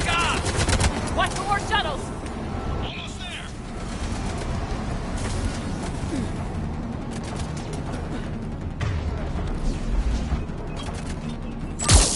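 Rapid bursts of gunfire and mechanical clatter from combat in the video game Mass Effect 3 Legendary Edition, loud and continuous with layered effects and shouted voices mixed in.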